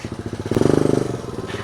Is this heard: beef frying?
no